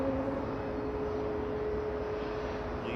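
An airliner taxis out for departure at Manchester Airport, a steady, moderately distant engine hum holding evenly throughout without a break.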